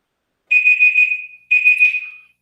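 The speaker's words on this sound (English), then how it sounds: "Wait for this timer to stop." A timer alarm sounds two long, steady high-pitched beeps of about a second each, separated by a brief gap, loud and alone with no talk.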